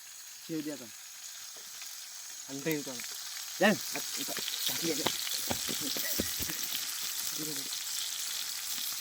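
Chicken pieces fry in hot oil in batches for a Konkan village chicken fry party, giving a steady, bright sizzle throughout while several voices talk intermittently nearby.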